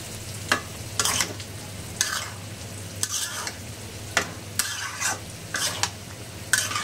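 Spices and oil sizzle loudly during tempering for a fish curry with brinjal and potato, broken by repeated rhythmic stirring scrapes that come in short bursts every half second or so.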